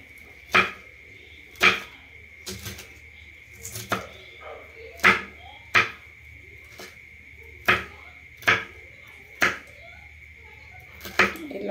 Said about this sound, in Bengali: হয়ে গেছে পেঁয়াজ কুচি আর কাঁচা লঙ্কা।